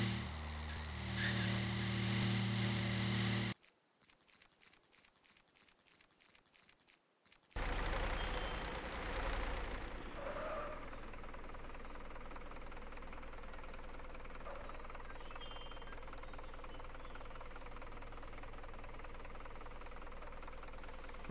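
A vehicle engine in the video game Junkyard Simulator runs with a steady low idle after an abrupt cut and restart, constant and moderately loud, with no talking.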